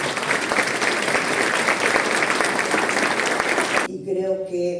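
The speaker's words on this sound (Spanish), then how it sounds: "Fuerte el aplauso." Loud, dense audience applause at a transparency conference in Chihuahua rolls on steadily for about four seconds, then cuts off as a voice begins speaking.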